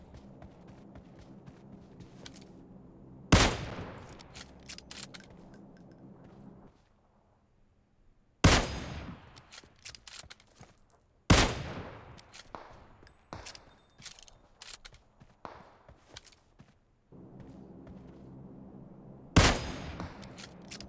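Gunshots in the mobile game PUBG Mobile: a handful of sharp, isolated rifle cracks spaced several seconds apart over a faint background bed, each loud and abrupt, with no talk heard.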